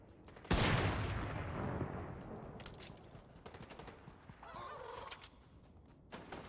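A sudden loud burst of gunfire in Fortnite, close and sharp, trailing into scattered distant shots and game effects, with no talking.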